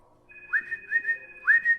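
A person whistles to imitate a bird: three bright, rising chirped whistle phrases, close and clear, with short pauses between them and no talking.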